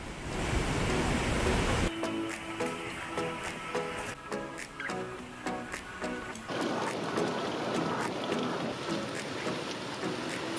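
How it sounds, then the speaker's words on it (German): A mountain stream in the Rosengarten rushes down beside a hiking trail below an alpine pasture. It makes a steady, loud broadband roar that runs the whole time, with a few faint clicks and tones mixed in. "Erst nach der Alm kommt der Bach zum Vorschein und rauscht neben unserem Wanderweg ins Tal."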